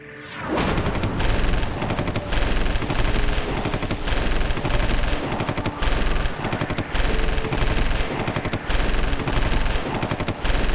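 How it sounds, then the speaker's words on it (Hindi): Sustained, loud bursts of rapid machine gun fire, rattling almost continuously with brief gaps between volleys. "बहुत बरसाली गोलियां।"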